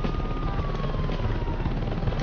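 A helicopter's steady rotor drone in the video game Saints Row 2 fills the whole stretch, loud and continuous with a faint whining tone sliding down over it.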